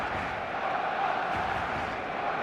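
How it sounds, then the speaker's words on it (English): Steady stadium crowd buzz at a football match in the PES video game, a dense, even roar of many voices filling the whole stretch without breaks or peaks. "There's a real expectant buzz in the stadium"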